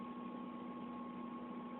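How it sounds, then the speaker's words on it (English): A Mazda Miata engine idles steadily after a Walbro fuel pump swap, giving a constant low hum with a faint whine on top, even and unbroken throughout. "It's idling good, which is better than it had been doing."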